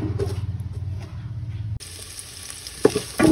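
Ginger sautéing in oil in a cooking pot, for a mussel tinola, sizzles and crackles steadily with stirring; partway through the sizzle turns brighter and louder, with a few clinks near the end.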